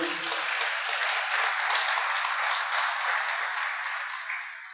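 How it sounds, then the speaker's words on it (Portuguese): Church congregation applauding the Lord during a Portuguese-language service, steady dense clapping that fills the whole stretch and fades slightly at the end, with no talk over it. "Diga amém e dê um aplauso ao Senhor."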